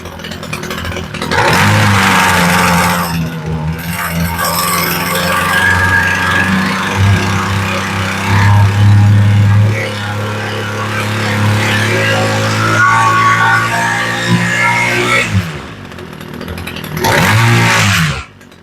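A Homelite weed eater engine runs after carburetor adjustment, a loud, close two-stroke buzz that holds steady, rises and falls in pitch with revving, then drops off before a final rev.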